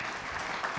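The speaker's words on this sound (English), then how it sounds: "can I get a round of applause for our panelists who've shared their time" An audience at a panel event on Mexico and the Americas claps briefly for the panelists, a short, even spatter of applause at moderate level.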